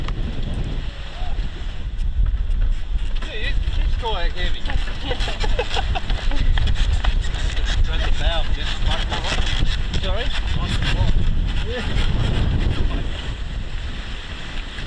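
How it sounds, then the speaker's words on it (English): Steady, heavy wind roars across the microphone on a sunny day, with a voice talking underneath and a constant rushing, buffeting noise. "The weather was sunny and windy, with a strong wind warning."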